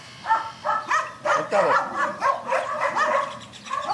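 A dog in guard and protection training barks and yelps repeatedly in quick, uneven bursts, close and fairly loud, with some whining between barks.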